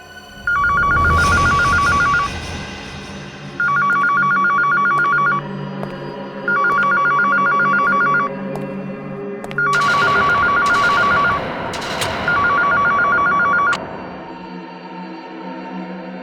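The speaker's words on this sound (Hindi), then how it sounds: "वो फोन उठाओ" A telephone rings in repeated electronic bursts, five rings with short pauses between, loud and close over low background noise, in a Hindi crime TV drama.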